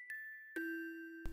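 A Christmas church bell rings in three clear strikes, each leaving a bright, sustained ringing tone that hangs in the quiet between hits.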